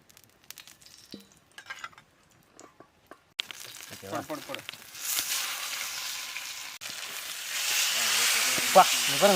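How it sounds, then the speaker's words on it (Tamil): Freshwater pomfret fries in oil on a dosa pan in a village setting. After a few seconds of quiet clicks and handling, a hissing sizzle starts and builds to a steady, loud fry. "தோசைக்கல்ல வச்சுக்கலாம் இப்போ எண்ணெயை சேர்த்துப்போம்"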